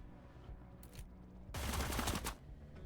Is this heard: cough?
no